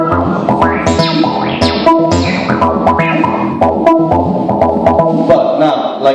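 A Roland AIRA TB-3 synthesizer plays a TB-303 style acid bass line, loud and close, with squelchy filter sweeps and accented, sliding notes in a fast repeating pattern.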